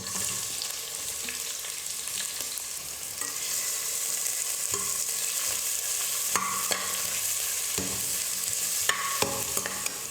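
Two large onions, sliced thin and long, fry in hot oil with a steady, dense sizzle throughout, broken by occasional louder spatters and stirring clicks.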